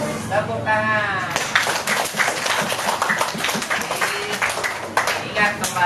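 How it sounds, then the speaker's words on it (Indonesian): Schoolchildren in a class clapping their hands, with sharp irregular claps mixed with children's voices talking and calling out over the clapping. "Tepuk tangan."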